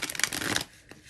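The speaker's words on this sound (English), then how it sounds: "I'm just going to shuffle one more time and get focused" A deck of tarot cards is shuffled up close, giving a quick papery riffle for about half a second before it trails off into near quiet.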